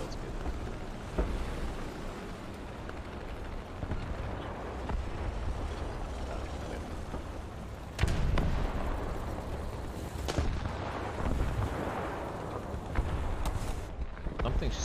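Gunfire at a tank in a WWII tank battle video game, heavy booming shots over a constant engine rumble, with a sharp loud impact midway and further blasts after, plus voices talking.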